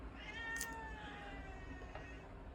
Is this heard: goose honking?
no